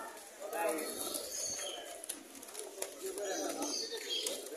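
Pigeons coo softly at the Mirpur 1 pigeon market in Dhaka, Bangladesh, their low murmuring calls mixed with the chatter of people bargaining nearby, all fairly quiet.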